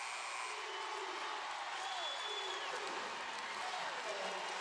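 Sellout crowd of 8,000 on its feet at a women's college basketball game between Tennessee and Kentucky, a sustained, distant roar of cheering and applause with faint whistles carried over it.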